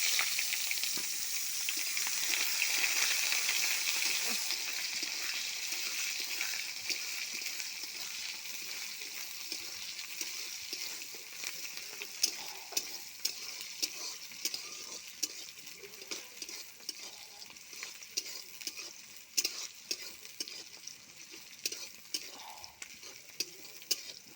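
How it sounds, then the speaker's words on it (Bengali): Onions fry in oil with bay leaves in a pan for a chicken curry, giving a steady hissing sizzle that fades slightly, dotted with frequent spatula clicks and scrapes, close and with no talking. "পেঁয়াজটা একটু ভেজে বন্ধ করে দিয়ে তো রসুনটা দিয়ে দিয়েছি।"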